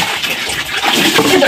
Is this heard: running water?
yes